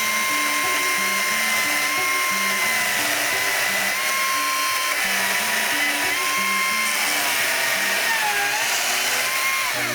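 Gasoline chainsaw cutting wood to shape a curved roof for a natural building, a steady loud engine drone holding throughout with small shifts in pitch as the cut moves along.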